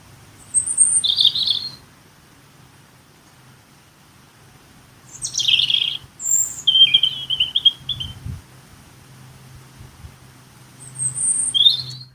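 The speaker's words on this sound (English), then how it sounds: "That was a robin singing to me the other day." Outdoors, a robin sings in short, high, twittering phrases separated by pauses, clear and fairly close over a quiet low background hum.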